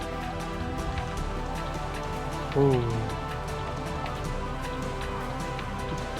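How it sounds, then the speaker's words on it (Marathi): Rain coming down at Savlya Ghat in the Sahyadri hills near Tamhini Ghat, a steady wash of outdoor noise throughout, with a brief voice breaking in partway through. "भाई आत्ता पाऊस आला."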